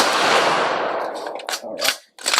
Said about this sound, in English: All right, now we're gonna shoot the hand.